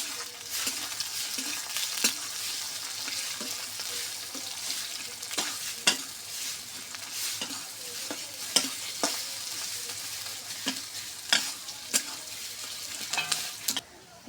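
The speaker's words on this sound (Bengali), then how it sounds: "পেঁয়াজটা আগে আমি বাদামি বাদামি করে ভাজে নিব।" Onion frying in a pan until brown for a small bata fish and egg curry, a steady sizzle throughout with repeated sharp clinks and scrapes of a spatula stirring, close and fairly loud with no talking.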